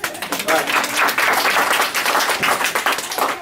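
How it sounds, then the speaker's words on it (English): Audience applause at a morning workshop on leveraging social networks for referrals, a crowd clapping in loud, uneven bursts close by, with voices mixed in beneath the clapping. "Give yourselves a round of applause."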